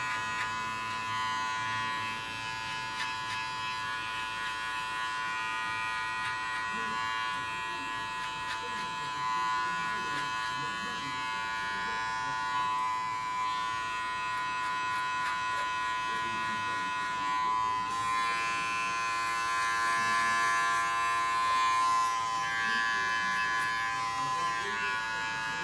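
Electric hair clippers buzz steadily with a bright, humming drone while cutting hair for a grade 1 fade with long layers, the motor tone continuous throughout with a slight shift partway.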